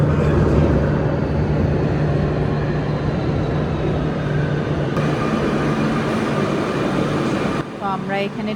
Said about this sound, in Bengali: আমরা মাটির নিচে একটা স্টেশনে এসে পৌঁছেছি।